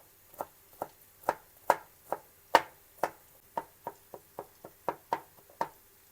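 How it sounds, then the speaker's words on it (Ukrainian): Quick, steady knife chops finely cutting garlic on a cutting board, about a dozen and a half sharp knocks in a brisk rhythm, close up and with no talking. "нарізаю дрібненько чеснок"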